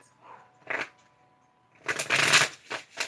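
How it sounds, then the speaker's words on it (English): Angel oracle cards are shuffled by hand in a few short riffling bursts, close and crisp, with a longer continuous shuffle in the second half. "I'm shuffling the cards to clarify the romantic angel cards."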